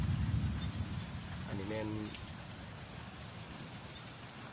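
Morning rain falls steadily around a village home near a tamarind tree, a soft continuous patter with a low rumble early on, while a voice speaks briefly in the middle.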